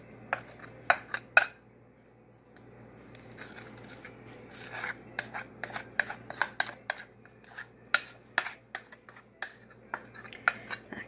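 A spoon stirs fruit dip in a bowl, scraping and clinking against the sides in quick irregular bursts, closer and louder near the start and then in a busy run of knocks toward the end.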